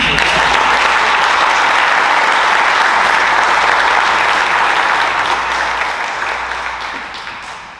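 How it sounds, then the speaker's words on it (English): Sustained applause from an audience at a junior police academy graduation, steady clapping throughout that gradually fades toward the end. "So I want to give them a round of applause."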